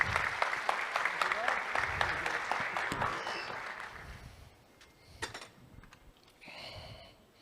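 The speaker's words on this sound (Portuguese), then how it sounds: "Uma salva de palmas, por favor." An audience applauds at a gastronomy conference session, a dense wash of clapping that holds for about four seconds, then fades into a quieter room with a brief rustle.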